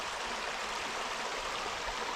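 Water running across a gravel road where there are no sewer pipes, a steady broadband rushing and trickling flow that stays even and continuous throughout.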